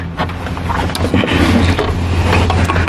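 A part being screwed back on during an oil change on a 1993–97 Toyota Corolla makes close, loud mechanical ratcheting and grinding over a low hum, continuous for a few seconds.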